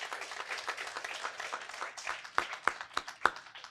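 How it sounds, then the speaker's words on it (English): A school audience applauds competing students at a word-usage and pronunciation competition: a brief, fairly faint round of scattered clapping, with a few sharper, louder individual claps standing out near the end. "Let's give them a well-deserved round of applause."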